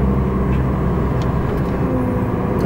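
A car engine drones steadily with road rumble while driving through jungle on La Gomera in the Canary Islands, loud and continuous from inside the vehicle.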